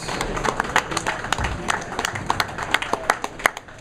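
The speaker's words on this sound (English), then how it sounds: "They're trying to cheer him on" Crowd at a bowling alley during handicap finals clapping and cheering a bowler on, a busy run of hand claps building in density and loudness over a few seconds, with some voices mixed in.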